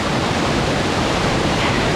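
A large waterfall roars as a steady, loud, unbroken rush of water, close by and with no other sounds on top.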